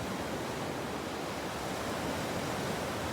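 Ocean waves wash continuously onto a beach in Sierra Leone, a steady broad roar of surf with no voices.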